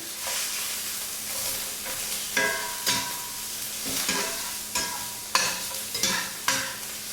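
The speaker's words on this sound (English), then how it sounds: "every time I try to cook the fat up like this so it can release the juices" Beef fat for carne guisada sizzles in a pan in a constant crackling hiss, broken every second or so by louder scrapes and clinks of a utensil stirring and pushing the meat.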